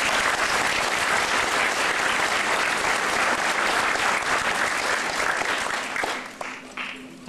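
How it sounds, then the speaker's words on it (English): A large indoor audience gives dense, loud, sustained applause at a public event, which tapers off near the end. "Can you give them a round of applause, please?"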